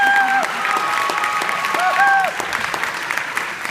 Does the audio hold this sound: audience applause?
yes